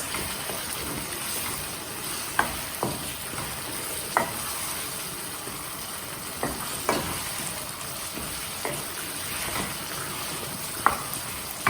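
Raw potatoes being stirred into gravy in a pan, with a steady soft sizzle and repeated light scraping taps of the spoon against the pan, close by and without speech.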